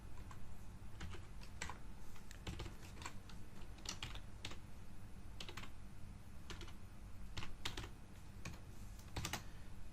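Steady typing on a computer keyboard during a GIS scripting session, with rapid clustered keystrokes and occasional louder taps running close and continuous throughout.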